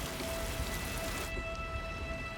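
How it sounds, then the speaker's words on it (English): Steady rain pouring and running off mountains down into a valley, a dense, even hiss of falling water at moderate level throughout, with no voices. "The rain runs off the mountains, building momentum as it descends to the valley floor."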